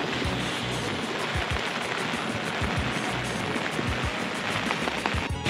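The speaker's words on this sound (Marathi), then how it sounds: "थंडी एवढी आहे आणि पाऊस पडतोय, त्यात वारा आहे" Steady rain and wind fill the air outdoors on a cold day in Belgium, a dense, even rush of noise that holds unbroken from start to finish, with a few soft low thumps underneath.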